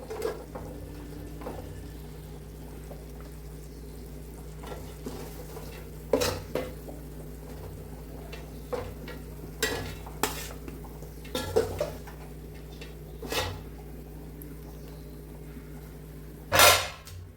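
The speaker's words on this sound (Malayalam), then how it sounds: "ചിക്കൻ കണ്ടെടുത്ത് മാറ്റി വെക്കാം" Chicken pieces lifted one by one out of a pot of gravy for chicken mandi, with scattered clinks and scrapes of a utensil against the pot and a louder knock near the end, over a low steady hum.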